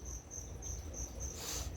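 Feeder crickets chirp at night inside a reptile shop, a faint, steady high-pitched trill pulsing continuously with no talk.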